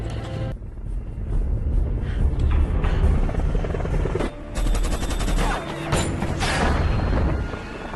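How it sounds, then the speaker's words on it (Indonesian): A helicopter's rotor drone mixes with bursts of rapid gunfire and sharp impacts as the helicopter is shot down, loud and continuous, with a brief dip before the chaos resumes. "berhasil menembak jatuh pesawat heli itu"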